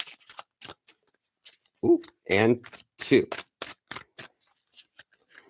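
Tarot cards are shuffled in a few short, papery riffling bursts of medium loudness, interleaved with a speaker talking throughout.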